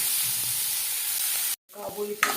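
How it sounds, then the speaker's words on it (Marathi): Onion sizzling steadily in hot oil in a pan while it is stirred and browned for a Maharashtrian pithla, a loud, close, continuous fry hiss, then a brief break and a few scrapes of stirring. "ते कांदा थोडा थोडा लाल व्हायला आलेला आहे याला परतच राहायचं सारखं जेणेकरून तो खालून लागणार नाही"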